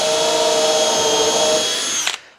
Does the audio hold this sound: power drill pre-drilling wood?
yes